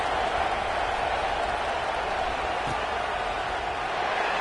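Subdued crowd at an American football stadium just after a score, a steady, even roar of many distant voices with no sharp cheers or swells.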